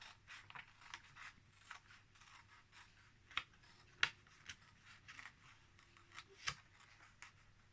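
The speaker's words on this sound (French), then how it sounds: "je vais découper. Je découpe à ras" Scissors cut closely around a paper label for a glittery laminated card decorated with stickers. Quiet, close snips repeat irregularly, with a few sharper cuts standing out over a soft background.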